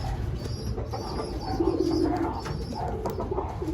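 African lovebird chicks peep and call from inside a breeding nest, a close cluster of soft, busy vocalizations over a low, steady background rumble.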